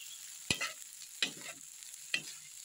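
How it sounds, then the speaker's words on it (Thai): Leftover rice with egg and minced pork is stir-fried in a pan, and a spatula scrapes the pan in three distinct strokes over a soft background sizzle, close up with no talking. "นี่ผัดข้าว"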